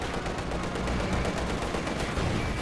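Tank cannon fire aimed at a T-34 in the video game Company of Heroes 2, heard within a dense, continuous roar of battle with rapid gunfire bursts and explosions layered throughout, loud and unbroken.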